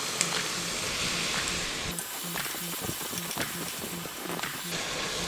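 Onions and tomatoes sauté in a pan, giving a steady loud sizzle and hiss with occasional stirring scrapes and clinks, and no talk over it.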